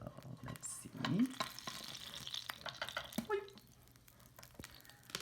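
A Japanese soufflé pancake sizzles quietly in a pan just after being flipped, with a soft spatula scrape and a few faint clinks and taps, close and low in level.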